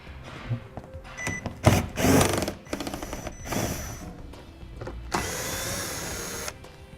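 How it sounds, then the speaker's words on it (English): A power tool with a 7mm socket removes bolts under a car while a trailer hitch receiver is installed, giving several loud whirring and rattling bursts with short pauses between them, close up and with no talking. "I'm going to be using a 7mm socket to take these out."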